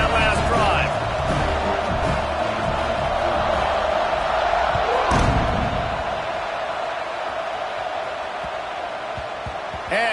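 A stadium crowd in the College Football 26 video game roars and cheers after a scoring drive, a dense sustained swell that fades slightly over time, with a commentator talking over it.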